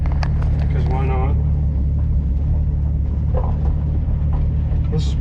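A 1965 Ford Mustang restomod cruises on a summer drive, its engine giving a steady, loud low rumble from inside the car, with a voice speaking briefly over the drone.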